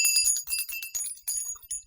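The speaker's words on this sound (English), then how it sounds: "Let me go ahead and ring this bell." A small bell jingles rapidly and repeatedly, bright and close, in quick tinkling bursts with no talking.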